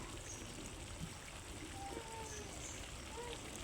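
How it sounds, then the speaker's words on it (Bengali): Water is poured into a pan of pumpkin and fish curry, giving a faint, steady trickle and hiss that runs unbroken for a few seconds, with no voices. "জল দিয়ে দেব"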